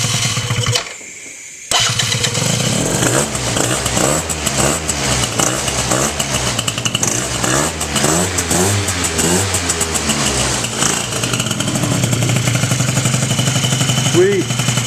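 A Keeway Matrix 70cc scooter with a Yosemite exhaust pipe and stock carburetor with larger jets runs close and loud, starting after a brief drop, then buzzing and revving in uneven pulses, with someone talking over it.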